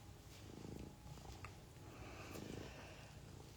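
A domestic cat purring close by, a soft continuous rumbling that swells with each breath, faint against a low background hiss and with no talk.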